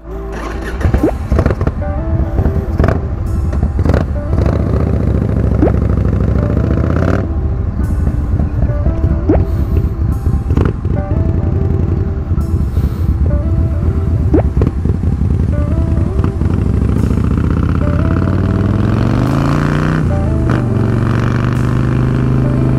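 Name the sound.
custom bobber motorcycle built from a 1997 Fat Boy, riding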